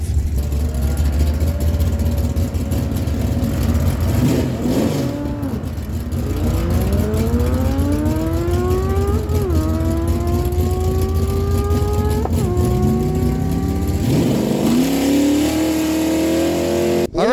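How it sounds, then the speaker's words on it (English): A 1979 Chevy Camaro with a 350 small block runs at a fall drag strip event, its engine roaring loud and steady with several rising revs and gear shifts, mixed with other engine noise and no talk. "Carol Lehman bringing in now the 79 Chevy Camaro, 350 small block power on the right side"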